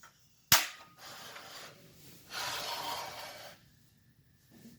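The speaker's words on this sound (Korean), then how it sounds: "점화를 해 보겠습니다." A portable butane gas torch ignites with a sharp click, followed by a steady hissing flame that grows louder for a moment and then settles back to a soft hiss.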